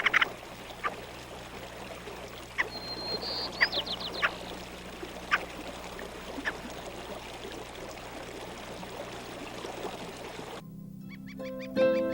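Ptarmigan roosters in spring willow flats give scattered cackling calls over a steady outdoor background of running water, and a brief different sound comes in at the end.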